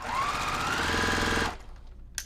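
A Juki sewing machine stitches fabric with a 1/4 inch foot, running as a fast, steady mechanical whir with a rising motor hum for about a second and a half, then stopping, followed by a faint click.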